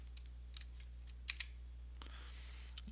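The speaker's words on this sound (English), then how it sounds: "type in a desired indentation" Quiet typing on a computer keyboard while entering a tab stop value in a word processor, a few soft, sparse key clicks close by with two slightly sharper taps, over a low steady hum.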